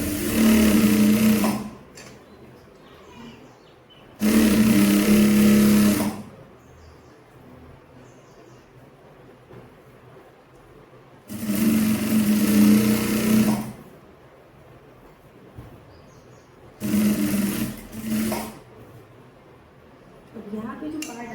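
Sewing machine stitching a kurti sleeve: four loud, close bursts of fast, even mechanical whirring, each lasting a couple of seconds, separated by quiet pauses with faint background noise.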